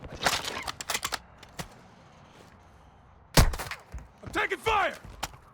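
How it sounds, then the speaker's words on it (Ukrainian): Distant gunshots in the Call of Duty Warzone DMZ video game, set in Al-Mazrah: sharp scattered cracks in short bursts, with a louder cluster midway and more shots near the end. Players talk over it. "Внизу постріли десь."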